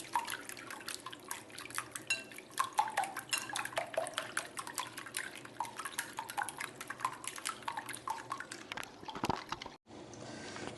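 A hand whisk beats eggs with milk in a bowl, producing fast continuous clinking and sloshing taps of metal against the dish, steady and close for about ten seconds.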